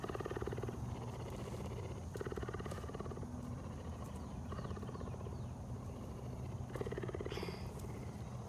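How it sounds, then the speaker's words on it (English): A cougar at a big cat rescue purrs in a steady, low, continuous rumble with rhythmic pulses, close and fairly quiet, with no talk over it. "Hear that purring?"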